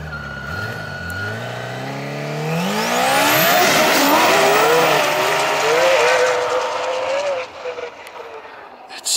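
A 280 hp Yamaha snowmobile roars past, rising from a distant whine to a loud, high-revving pass and then fading away as voices talk beneath it.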